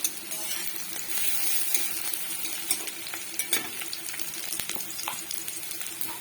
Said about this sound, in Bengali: পেঁয়াজটাও লাল লাল করে ভাজা হবে।